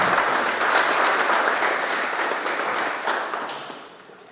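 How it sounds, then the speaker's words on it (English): An audience applauds the team behind the inaugural launch of the Caribbean Journal of Multidisciplinary Studies, with sustained clapping that holds steady and then gradually fades. "So if you join me in giving a round of applause to the wonderful team and the wonderful work."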